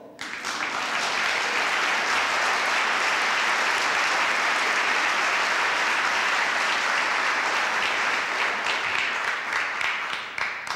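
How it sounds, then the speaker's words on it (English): A large audience applauding at a city address, sustained, loud, even clapping that swells quickly and holds for about ten seconds without letting up. "I appreciate the extra claps"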